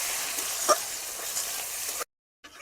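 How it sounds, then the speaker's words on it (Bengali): Chopped onion frying in hot oil makes a steady close sizzle with one sharp pop early on, then cuts to a brief silence before the frying resumes. "পেঁয়াজটা একটু ভালো করে লাল করে ভেজে নেবো।"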